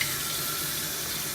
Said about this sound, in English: when he hears the sink running